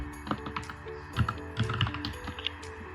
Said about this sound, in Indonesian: Langsung saja kita ketikkan nama domainnya.